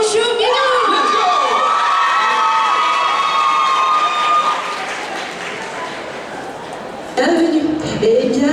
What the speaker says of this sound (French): Notre prochaine participante, s'il vous plaît, applaudissez très fort, Mouchou Minou.